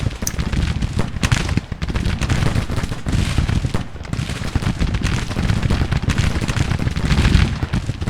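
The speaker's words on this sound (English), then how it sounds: "Counterfire, but firing at everything but the artillery, it looks like" Dense, continuous musket volleys and cannon counterfire from a Grand Tactician: The Civil War battle at St. Louis Ferry, a steady crackling roar of gunfire with heavier booms mixed in, loud and sustained without pause.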